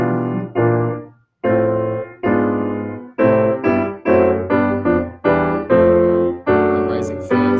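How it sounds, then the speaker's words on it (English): Piano chords step through a descending fifth sequence as a Western classical harmony exercise, a series of sustained, loud block chords struck one after another with short gaps. "there's a really difficult exercise in theory of doing a descending fifth sequence"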